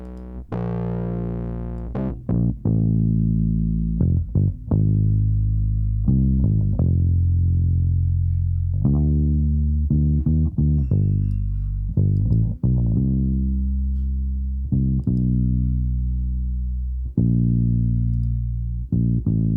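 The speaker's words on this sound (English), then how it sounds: "If I were to switch this tone down to low, you're going to hear the distortion kick in way more." Distorted electric bass through a Fuse Audio Labs VPRE-2C preamp plugin, thick and gritty, played as sustained low tones and short plucked phrases with no talking.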